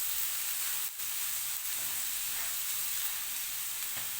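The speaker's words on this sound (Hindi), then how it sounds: "तो अब हम इसमें डाल देते हैं बंद गोभी और साथ में इसमें एक कटी हुई प्याज सब्ज़ मिर्च" Shredded cabbage, chopped onion and green chili sizzle in a hot pan, a steady bright hiss close by with a couple of brief dips as the pan is stirred.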